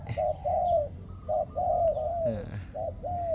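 A dove coos close by in repeated low, rounded phrases, with a brief flutter of other sounds midway and no talking.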